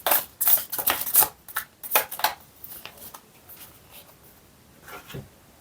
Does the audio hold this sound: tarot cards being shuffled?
yes